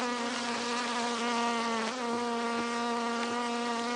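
Honeybees buzzing loudly and steadily right up close during a September beehive check while frames are equalized, a dense continuous drone with no talking.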